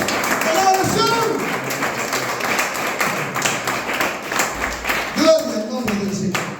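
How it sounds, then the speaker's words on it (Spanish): A church congregation applauds in praise, a steady rattle of clapping mixed with voices and a few thumps that continues across the whole stretch. "Denle un aplauso al Señor."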